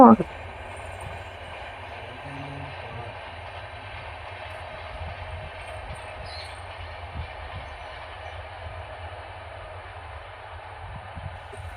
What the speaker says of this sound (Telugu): మేము వచ్చిన టూ అవర్స్ లోపే సిక్స్ దాకా వెళ్ళాయండి ట్రైన్స్